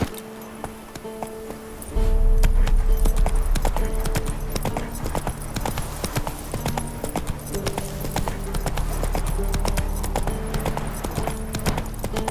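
Roach the horse's hooves clip-clop in a steady rhythmic gait through The Witcher 3 on PlayStation 5, starting after a quiet opening and continuing loud and close over game ambience.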